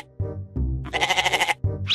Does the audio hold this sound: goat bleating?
yes